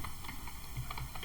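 Rapid clicking of keys on a computer keyboard as text is typed, a steady stream of close, light taps with no voices.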